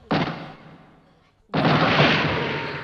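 A firecracker goes off twice, two loud, close bursts about a second and a half apart, each decaying into a rumbling tail, at a children's fourth birthday party.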